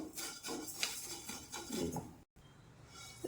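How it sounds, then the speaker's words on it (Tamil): Roasted sesame seeds are stirred in a pan on a switched-off stove, a spoon scraping and clinking steadily against the metal with a grainy rattle, close and constant. "ஆஃப் பண்ணி அப்படியே கிளறி விடுவோம்"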